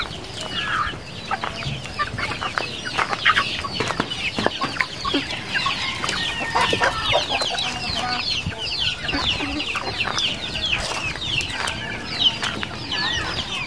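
Two loose chickens cluck busily near a group of ducks on a farm, a steady stream of close, overlapping clucks and short calls with occasional wing flaps.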